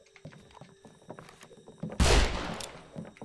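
Gunfire from a Wild West video game: a series of light clicks and thumps leading to one loud, sharp gunshot blast with a lingering rumbling tail.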